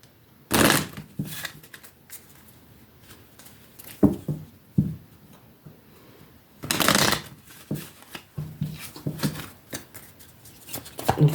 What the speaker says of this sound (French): Donc on va bien remélanger les cartes.